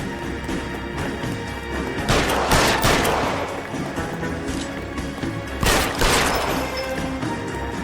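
Gunfire in the 1940s Los Angeles crime game L.A. Noire, with two heavy, crashing volleys of shots over a dense, continuous backdrop of action noise.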